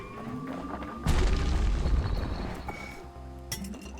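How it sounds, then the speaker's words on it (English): Hand grenade exploding in a video game, a single deep boom that swells and rumbles away over a couple of seconds amid ambient game sounds. "Hand grenade."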